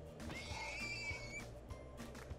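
A horse in the Minecraft video game whinnies and neighs, a high wavering call standing out over a steady low background hum, with a couple of brief soft sounds after it.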